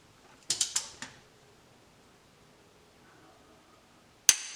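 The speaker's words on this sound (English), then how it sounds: "So number one, bolt number one, we're going to torque that to 50 pounds." Torque wrench tightening an engine bolt on a 1968 Ford Galaxie 302, giving a few quick close metallic clicks in a burst, then quiet, then one sharp final click.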